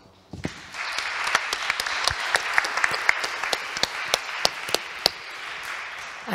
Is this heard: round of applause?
yes